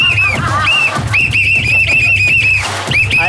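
A sports whistle sounds in repeated shrill blasts, several bursts in a row with short gaps, loud and close over a low background hum.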